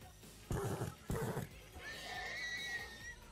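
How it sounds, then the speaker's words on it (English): In Minecraft, a horse neighs in a high, wavering whinny after two brief thumping noises. The sound is faint and heard on its own. "So, shut up, horse."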